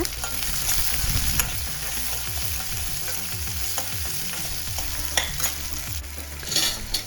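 Finely chopped small onions (shallots) fry in hot oil for Chettinad kara seeyam, giving a continuous close sizzle with repeated scraping stirs throughout.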